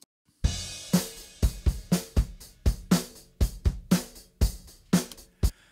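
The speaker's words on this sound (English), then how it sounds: "Let's listen to just the drums." A dry drum kit plays alone in a mix, with steady, punchy kick and snare hits roughly every half second and a light cymbal wash, clear and close with no other instruments.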